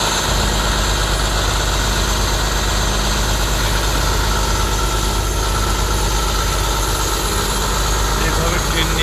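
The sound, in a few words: cleanup truck engine idling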